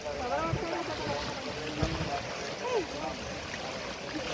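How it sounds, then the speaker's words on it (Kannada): River water flowing past a boat on a trip near Mantralaya, a continuous close rushing wash with a voice talking over it and faint other voices in the background. "ನೋಡಿ ಗಾಯ್ಸ್, ಹೆಂಗೆ ಹೋಗ್ತಿದೆ ನೀರು"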